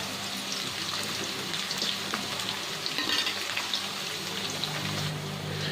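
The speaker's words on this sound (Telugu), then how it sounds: "తర్వాత పచ్చిమిరపకాయ ముక్కలు యాడ్ చేసుకోవాలి." Green chilli pieces fry for a fish curry in a steady, dense sizzle of hot oil, loud and close, with faint stirring scrapes breaking through and no voices.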